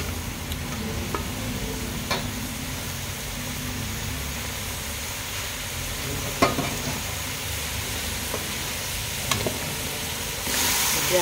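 Mixed vegetables including yam and pumpkin frying in a pan, a steady continuous sizzle with occasional soft stirring scrapes and clinks, close and even throughout.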